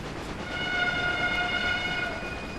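A train pulling into Fort William station in Railway Empire, sounding its horn: a sustained, loud, multi-tone horn blast over rumbling rail noise that swells and then eases slightly, with no talk.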